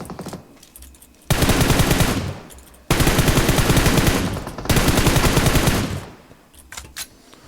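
Three long bursts of rapid automatic gunfire in PUBG Mobile, loud and close, each rattling for about one and a half seconds, separated by brief pauses, with no talk over them.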